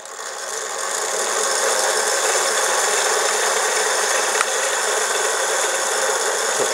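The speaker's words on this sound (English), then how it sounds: "you can hear the motors kind of rev." Motors on a self-balancing skateboard rev during live testing, producing a steady, loud electric whine with a rattly buzz that rises slightly after the first second and holds evenly with no talk.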